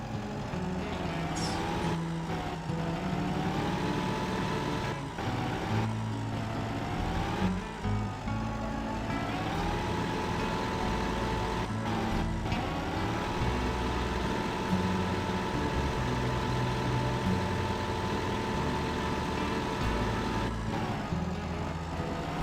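A tractor pulling a trolley during a wheat harvest in a farming video game drones steadily, its engine a constant hum with slight pitch shifts as it drives, and no talk.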